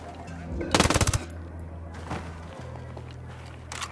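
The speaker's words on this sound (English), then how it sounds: "Sicario with a minigun." A minigun fires in Ghost Recon Wildlands as a short, fast burst of about eight rapid shots, loud and close, followed by quieter ambient noise with faint thuds.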